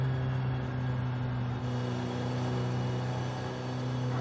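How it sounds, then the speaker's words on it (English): A Nissan Sentra Nismo in Forza Horizon 5 holds a loud steady engine drone at high revs, a constant tonal hum with little change in pitch, no talk. "To see a Nissan Sentra sounding as powerful as this is pretty cool."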